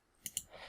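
Two quick computer mouse clicks sound close and crisp about a tenth of a second apart while drawing in SketchUp Layout, followed by a faint rustle in an otherwise quiet room.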